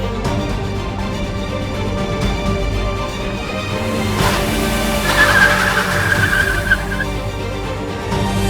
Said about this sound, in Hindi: यार पागल इंसान इतनी तेज गाड़ी चला रहा था।